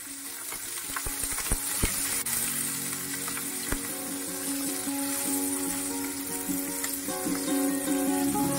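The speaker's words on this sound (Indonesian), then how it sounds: "1 genggam rawit campur, 3 siung bawang putih, dan 2 siung bawang merah. Lalu kita goreng sampai layu." Bird's eye chillies, garlic and shallots fry in oil for sambal, a soft continuous sizzle with sharp spatula clinks and scrapes against the pan from stirring.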